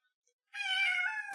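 A single cat meow, close and clear, a drawn-out tonal cry lasting under a second after a brief silence.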